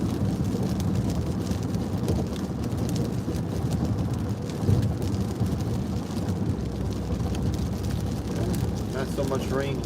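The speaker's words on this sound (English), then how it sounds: "I mean, it's still raining" Steady rain during Hurricane Milton, heard from inside a moving car as a dense, continuous wash of road and rain noise that stays loud throughout.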